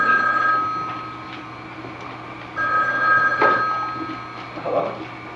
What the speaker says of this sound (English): You don't suppose we should get the phone?